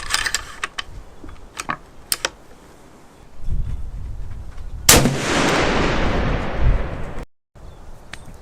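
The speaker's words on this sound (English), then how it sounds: "I'll put the second shot through it." A Howa 300 PRC rifle fires one loud, close shot at an outdoor range. Mechanical clicks and handling noises come before it, and a reverberating rumble trails after the blast.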